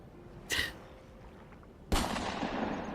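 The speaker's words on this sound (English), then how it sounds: "Why is there more gunshots?" Two sharp gunshots about a second and a half apart, the second louder with a ringing tail, from a game soundtrack.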